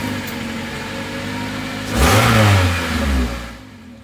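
A car engine idles with a steady low hum, then revs up sharply and falls back, loud and close, through an exhaust repaired at home without welding.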